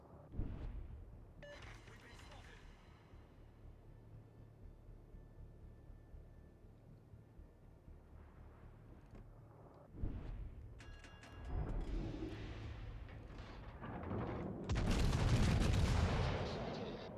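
Heavy booming warship gun salvos firing HE shells in World of Warships: Legends, a few big deep blasts with rumbling tails, the loudest near the end, amid quieter game ambience and occasional talk.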